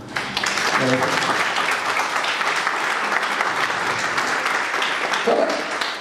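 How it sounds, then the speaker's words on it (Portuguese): A seminar audience breaks into sustained applause, a dense, even wash of clapping at close range lasting several seconds, with a brief voice heard at the start and end. "Merece aplauso, né, gente?"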